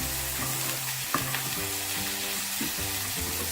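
Ginger, garlic and chilli sauté lightly in a pan for paneer lasagna, a steady, close sizzle with a few light stirring knocks, all under background music.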